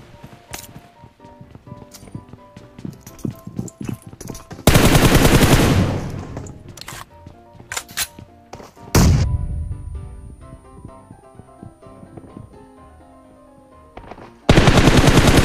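Sniper rifle fire in a shooter video game, with loud sharp shots and bursts of gunfire among scattered clicks and game effects, a couple of heavy blasts standing out near and loud.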